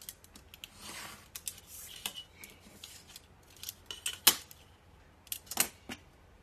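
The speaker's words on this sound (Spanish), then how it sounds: "Cortamos por aquí." Scissors snip through scrapbook paper for a handmade paper bag, with a series of quiet, close, crisp cuts at irregular intervals, a few sharper snips standing out toward the end.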